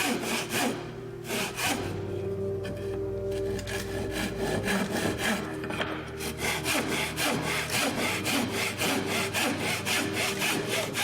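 Hand saw cutting wood to length for traditional Korean wooden furniture, a close, loud series of rhythmic rasping back-and-forth strokes that quicken toward the end.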